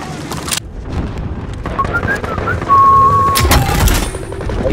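Gunfire from the video game Modern Warfare rings out in loud bursts and bangs, with whistling and ringing game effects laid over a busy combat soundscape.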